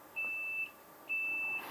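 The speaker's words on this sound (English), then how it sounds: "This is the sound of Taylor backing up." Car reversing beeper sounds two steady high-pitched tones, each about half a second long, clear and fairly faint against a quiet background, with a short thump at the end.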